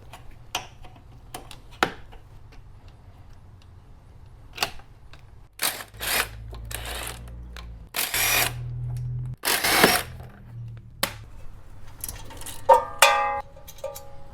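A power tool undoes the strut mount nuts on a WK2 Jeep Grand Cherokee during an air suspension delete, giving a few short, loud whirring bursts separated by quiet gaps and small clicks.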